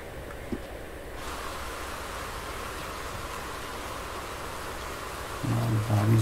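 Steady hiss of rain falling in Red Dead Redemption 2, an even wash of noise that runs throughout with a brief louder swell near the end.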